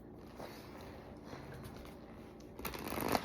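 Soft riffling and flicking of playing cards being shuffled close by, quiet and papery, ending in a brief louder burst.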